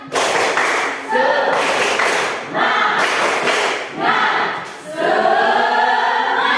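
A standing school class in Indonesia performs a rhythmic spirit clap, bursts of group clapping falling in repeated patterned phrases, with voices chanting along between the claps.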